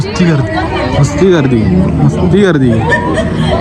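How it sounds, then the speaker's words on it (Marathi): Dense crowd chatter fills a busy college festival in Khed, with many overlapping voices talking loudly and close by throughout. "नुसती गर्दी"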